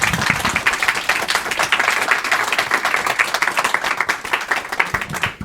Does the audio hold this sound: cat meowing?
no